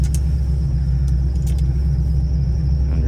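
A car idles and creeps back into a snowy driveway, a steady close low engine rumble running throughout with faint small clinks near the start.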